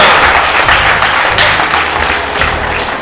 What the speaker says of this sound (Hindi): अब ताली बजाइए अगर आपको समझ में आ रही है।